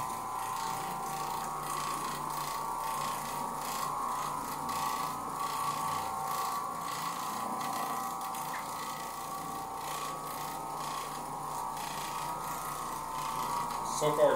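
An Oreck Orbiter floor machine scrubs dirty sculpted carpet with a steady, continuous droning hum and a faint rubbing texture throughout.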